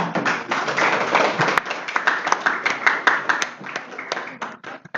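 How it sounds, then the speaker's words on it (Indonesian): An audience at a Balinese language month closing ceremony claps for a school award winner, with brisk, dense hand clapping that stays steady and fairly close before trailing off into scattered claps. "Inggih menak tepuk tangan."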